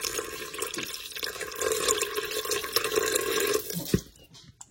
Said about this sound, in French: J'ajoute l'équivalent de 100 ml d'eau chaude.